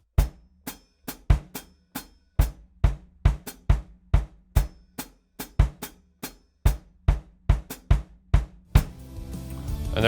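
Two drum pedals work through a 2-against-5 polyrhythm with the feet, sharp kick-style hits in a steady interlocking pattern, close and loud, then a wash of cymbal noise swells at the end.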